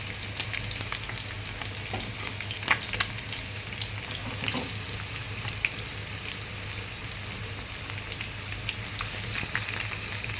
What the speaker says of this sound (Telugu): కొంచెం వేగాలండి. కొంచెం వేగినాక తీసేసుకోవడం అంతే.